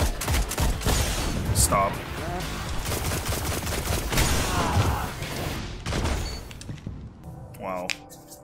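Rapid gunfire bursts from the Destiny Iron Banner multiplayer match, dense and continuous through most of the stretch, with players shouting over the shooting and a brief lull near the end.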